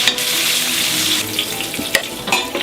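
Onions, lardons and mushrooms fry in a pan with a loud, close, continuous sizzle, and a few stirring scrapes and knocks come toward the end.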